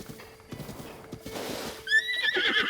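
A horse in the video game Zelda Breath of the Wild whinnies loudly near the end, after a steady patter of hoofbeats, with a faint speaking voice underneath.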